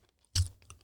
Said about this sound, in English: That crunch sounds nice.